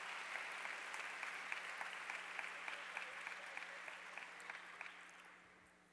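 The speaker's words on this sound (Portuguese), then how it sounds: "Vamos receber com um aplauso." Audience applause at a 2018 church health congress in Brazil. Sustained clapping with distinct sharp claps rises out of the room, with a low steady hum underneath, and tapers off toward the end.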